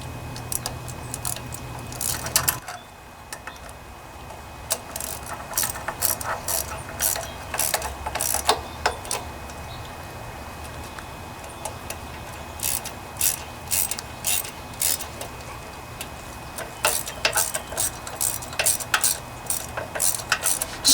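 A ratchet snugs down the top bolt on a twin-cylinder Briggs and Stratton engine with bursts of rapid, close clicking. A pause and quiet spells separate the runs over about twenty seconds.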